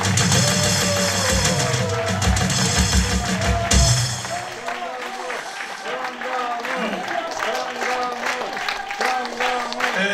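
Large crowd applauding at a pastors' conference, dense and loud from the start, with broadband clapping continuing under a cheering, speaking voice after a few seconds.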